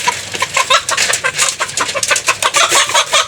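Chickens cluck busily and continuously up close, a dense, overlapping chatter of short calls with no pauses and no speech.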